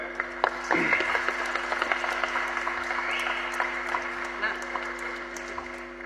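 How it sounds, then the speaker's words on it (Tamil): Applause for the director at a Tamil film audio launch, a crowd clapping that swells near the start and then thins into scattered claps beneath a steady hum from the hall's sound system. "அவருக்கு ஒரு மிகப்பெரிய கரகோஷம் கொடுங்க"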